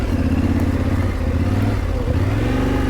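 Motorcycle engine revving steadily in its softer Explore throttle mode, a loud, close, continuous mid-pitched roar with small throttle surges and a brief dip near the two-second mark.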